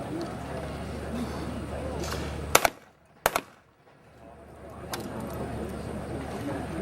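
Two sharp shotgun reports from a Beretta 391 fitted with a barrel weight, fired at a pair of skeet targets from station 5 at a world skeet championship, cracking loudly about a second apart over steady outdoor background noise.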